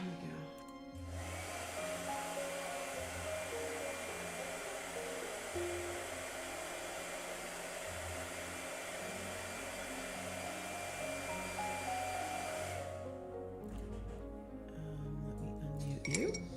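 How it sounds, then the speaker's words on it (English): A blow dryer runs steadily at close range with a constant loud airy whoosh for most of the stretch, then cuts off near the end, leaving some faint clinking. "Blow dryer."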